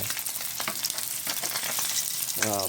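Paksiw frying in a pan, a steady dense sizzle with crackling pops throughout, loud and close, with a brief stir or scrape near the end.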